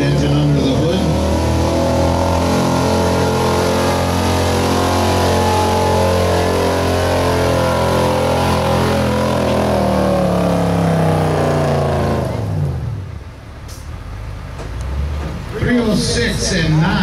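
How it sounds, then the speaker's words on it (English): A 1976 Ford F-350 pickup with a 429 cubic inch engine roars at sustained full throttle during a truck pull in Luck, Wisconsin, a loud steady engine drone that drops off abruptly near the end as an announcer talks. "429 cubic inch Ford engine under the hood."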